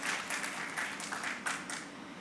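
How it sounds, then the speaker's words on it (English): Audience applause at an art programme launch at Kempegowda International Airport in Bengaluru, a steady patter of clapping from a crowd, moderately loud and lasting a couple of seconds with small swells. "A round of applause for Alex Davis."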